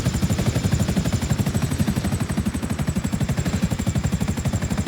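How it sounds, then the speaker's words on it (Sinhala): Helicopter in GTA V with its rotor giving a fast, steady, loud chopping beat and a high whine on top, running throughout with no voices. "දැන් චොපර් එක නම් ලෑන්ඩ් කරගත්තා"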